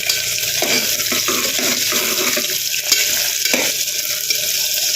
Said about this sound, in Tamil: அடுத்தது வெங்காயம் சேர்த்துக்கிறேன் இதை நல்லா வதக்கி விட்டுக்கலாம்